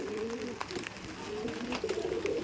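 Pakistani Chotiyal breed pigeons coo in soft, rolling low calls, repeated several times close by over a constant background hiss.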